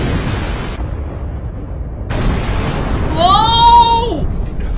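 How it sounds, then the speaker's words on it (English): Explosions in an animated film, with broadband blasts and a bright whooshing, whistling effect rising over a rumbling low background, moderately loud. "That's a lot of explosions."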